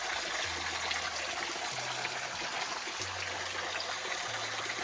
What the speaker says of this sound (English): Pretty low waterfall, but we're so close to the top of the ridge.